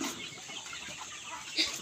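An Indio Gigante chicken clucks faintly at a distance on a farm, with soft, scattered clucks and a short sharper call near the end.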